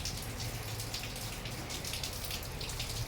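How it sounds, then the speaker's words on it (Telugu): Water runs from a tap in a steady, dense, splashy hiss that continues without a break. "నీళ్ళు వస్తున్నాయి చూడండి"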